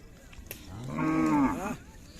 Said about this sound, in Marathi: सुंदर देखणं खोंड आहे